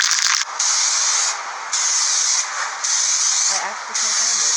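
Two-part spray enamel hisses from an aerosol can in steady, loud bursts of about a second each, broken by short pauses between passes.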